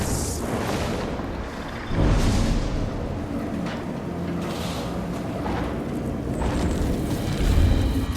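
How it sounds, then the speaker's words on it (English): Rocket punch skill explosions in the video game Guild Wars 2 boom repeatedly over a continuous roaring combat bed, with a few heavier thumping impacts rising above the noise. "Rocket punch"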